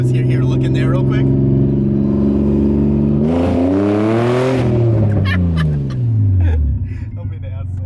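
A loud daily-driver car engine idles roughly, then revs up and settles back down, close and powerful, with a voice talking briefly near the end.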